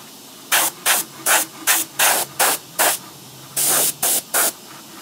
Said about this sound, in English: this benefits from having a little bit of airbrush dark in there